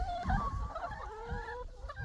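Chickens clucking and warbling nearby, several overlapping calls against soft background rustling.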